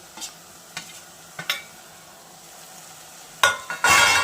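Prawns cooking for a prawn gravy are stirred in a pan with a few separate scraping strokes, then louder stirring and a burst of sizzling frying at the end, close and with no talk.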